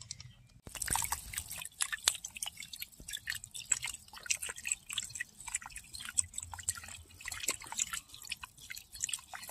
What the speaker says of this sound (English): The bunny bubbler is bubbling away.